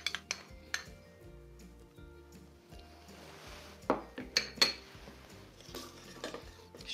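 Almond cream mixture with almond purée and vanilla powder is stirred in a saucepan, giving repeated soft scraping strokes broken by several sharp utensil clinks against the pan, fairly quiet and close with no talk.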